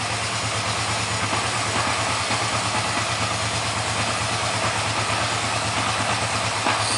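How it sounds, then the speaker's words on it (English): Kawasaki 305 motorcycle engine idling softly and steadily with the choke off, a continuous even low throb heard close up with no talking. "Sweet soft idle."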